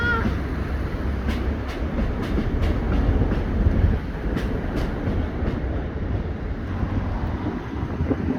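Train rumbling past at Wrexham General station, a loud, continuous low roar with faint rail clicks, fairly close throughout.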